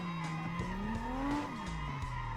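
Tires squeal steadily from a car drifting on a touge mountain track in a racing game, a sustained wavering screech over the engine drone that rises and then falls, with no talk.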